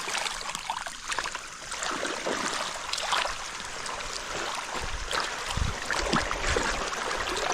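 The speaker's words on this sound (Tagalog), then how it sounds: "madali lang po mag-release ng tubig dito" Water is released in a farm field where cucumbers grow, a continuous rushing, trickling flow heard close up and steady throughout, with light outdoor noise.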